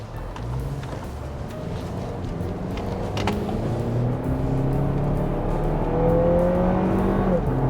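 A Lexus RX 350 engine in sport mode revs up hard to just over 6,000 rpm redline, rising in pitch to a high whine and holding there, loud and close, with a few voices faintly underneath.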